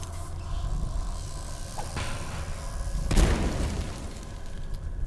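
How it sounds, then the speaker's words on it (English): A grenade explosion in the stealth game Dishonored lands as a muffled boom midway, over a dull rumbling game ambience with a lighter thump shortly before it. "So we'll use our grenade."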